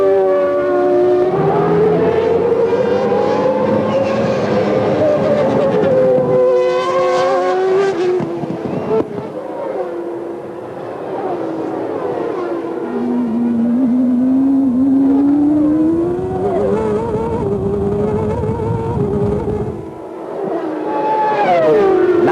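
Formula One cars from 1994 race past, their high screaming engines rising and falling in pitch as they accelerate and brake, several cars overlapping, loud and continuous with no talk.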